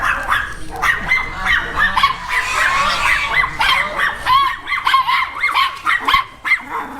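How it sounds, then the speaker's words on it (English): Small dogs bark and yip repeatedly at close range, with whimpers mixed in among the busy, overlapping barks. "Look at the little dogs."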